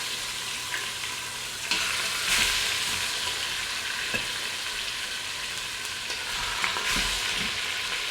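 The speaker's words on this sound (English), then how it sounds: "I'm going to take our chicken, fat side down or skin side down, and we're going to sear it off" Chicken thighs searing skin side down in about three quarters of a tablespoon of vegetable oil, with a steady bright hiss of frying, occasional louder spits and faint clinks, no voices.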